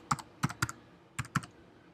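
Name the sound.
typing on a computer keyboard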